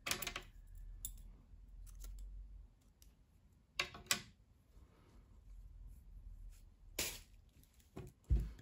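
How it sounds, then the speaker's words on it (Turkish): Scissors snipping knitting yarn at the end of a row, a few quiet crisp clicks spread out over a faint, mostly silent background. "İpliği kesiyorum."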